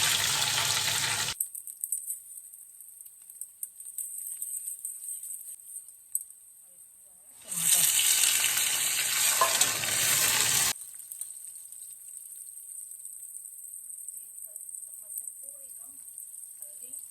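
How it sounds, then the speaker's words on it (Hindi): Green chillies fry in hot oil for tehri, a bright crackling sizzle that bursts loudly at the start, drops away, then returns strongly for a few seconds before fading to a quieter background. "थोड़ी हरी मिर्च फ्राई हो जाएंगी, इसलिए मैं पहले हरी मिर्च डालूंगी इसमें"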